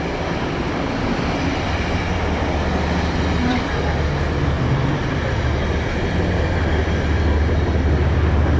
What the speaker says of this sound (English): And here's our train coming in.